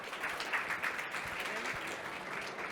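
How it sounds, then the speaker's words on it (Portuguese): An audience claps for the GAT InfoSec team at a fintech pitch championship at FEBRABAN TECH 2022 in Brazil. The applause is steady and fairly dense for the whole stretch, with a faint murmur of voices mixed in. "Salva de palmas para a GAT InfoSec."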